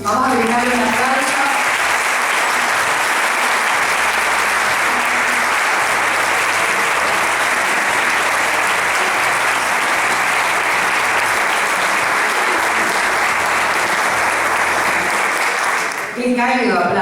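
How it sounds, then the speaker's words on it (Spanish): A warm, sustained round of applause from an audience welcoming historian Felipe Pigna at a municipal event in Argentina, dense clapping holding steady for over fifteen seconds before tapering off, with brief speech at the very start and end. "Qué cálido aplauso"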